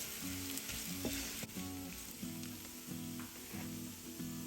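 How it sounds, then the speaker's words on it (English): Spice powder stirred into hot bitter gourd in a pan, a steady close sizzle and fry with rhythmic scraping strokes of a spoon repeating about every half second. "go ahead and add the powder that we made and mix everything together nicely"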